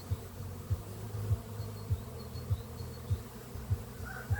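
Honeybees buzzing at a beehive as foragers bring in pollen, a soft continuous hum with repeated low pulsing thumps at a steady rhythm, fairly faint and without voices.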